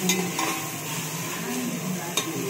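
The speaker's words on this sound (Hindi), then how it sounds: "अभी हम लोग इसमें डालेंगे अदरक लहसुन का पेस्ट। बिस्मिल्लाह। और इसको अच्छे से फ्राई करेंगे।" Ginger garlic paste sizzles softly in a pot while a spoon stirs and scrapes against the metal, with occasional sharp clinks over a steady quiet fry.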